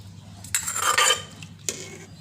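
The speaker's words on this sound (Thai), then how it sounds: "เสียงขวด" A few bright clinks of glass bottles knocking together, close and brief, over a faint low hum.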